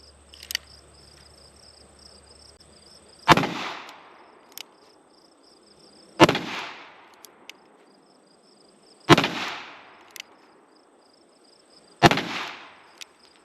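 Four loud rifle shots from a Henry Big Boy lever-action in .357 Magnum ring out at an outdoor range, evenly spaced about three seconds apart, each a sharp crack with a decaying echo, insects chirping faintly between.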